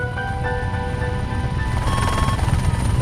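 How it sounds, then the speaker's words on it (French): A French Air Force helicopter on an air-policing mission flies nearby, its rotor chop and turbine whine loud and steady, building slightly as it holds close. "Vous êtes intercepté par un hélicoptère de l'armée de l'air en mission de police du ciel."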